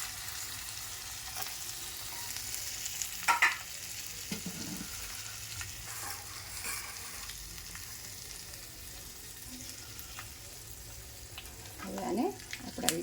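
A tempering of ginger, hing, garam masala and sago sizzling in hot oil for Gujarati dal, as a low continuous fry with a few sharper crackles and stirring clatters.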